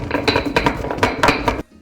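Whole peppercorns crunch in a hand pepper grinder turned in short, close ratcheting twists, a gritty mechanical rasp that stops abruptly.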